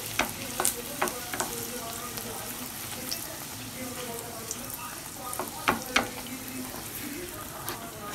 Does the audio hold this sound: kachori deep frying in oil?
yes